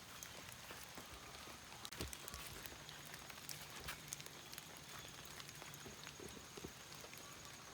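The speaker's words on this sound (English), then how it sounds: "Now, it is raining." Rain falling steadily over a vegetable garden with cucumbers and tomatoes, a dense even patter with scattered louder drops close by, fairly faint overall, with no talk.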